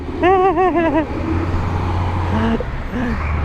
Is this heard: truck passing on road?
yes